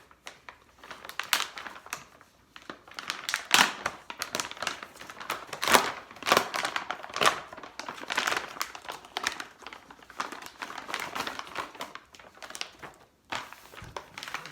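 A reusable Ziploc-type plastic bag from a bleeding control kit is pulled open, giving irregular bursts of crinkling and crackling plastic, close and fairly loud, with short pauses between handling noises.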